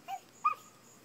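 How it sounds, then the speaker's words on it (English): A puppy gives two short, faint whimpers, high and slightly rising, close by in an otherwise quiet room. "A puppy? You hear the puppy?"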